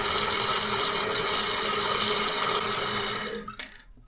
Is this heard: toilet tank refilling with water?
yes